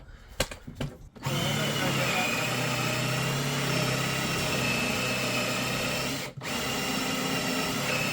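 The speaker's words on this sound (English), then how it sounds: "You're going to drill a hole" After a few clicks and knocks, a power drill whirs steadily at close range drilling a hole aboard a narrowboat, pausing briefly once before spinning up again.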